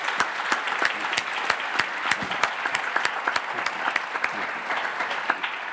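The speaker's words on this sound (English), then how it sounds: "could you all please give a round of applause to these countries that have contributed to Somalia" Conference audience applauding in a hall after being asked to honour countries that contributed to Somalia, a dense, steady clatter of many hands clapping throughout without any voices.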